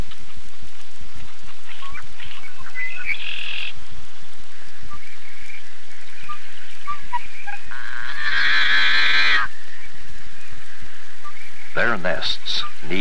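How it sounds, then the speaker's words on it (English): Red-winged and yellow-headed blackbirds call from willows and cattails at a prairie marsh, giving scattered chirps and a few harsh buzzy calls, with one loud raspy call near the middle and more calls toward the end. "Red-winged and yellow-headed blackbirds occupy the bordering willows and cat-tailed."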